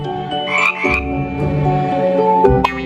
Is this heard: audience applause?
no